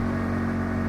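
Bajaj RE or TVS King Deluxe auto rickshaw engine labouring uphill in a tuk tuk time trial, a steady close, buzzing drone with a strong low hum held under load for a brief moment.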